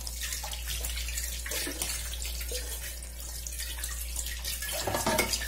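Tap water runs steadily into a kitchen sink while items are rinsed, a continuous broadband splashing with shifting clatter and louder spurts near the end, no voices.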